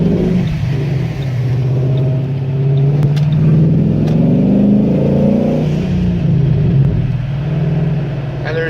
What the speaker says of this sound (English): there's definitely some satisfaction when it comes to that turbo spool and let off of the blow-off valve